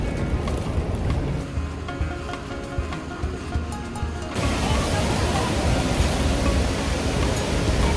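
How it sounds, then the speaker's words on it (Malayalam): Water thunders and splashes at Athirappilly waterfall, a dense, loud broadband roar that swells louder about halfway through and stays constant without pause. "നല്ല രസമാണ് വെള്ളം തെറിക്കുന്നു."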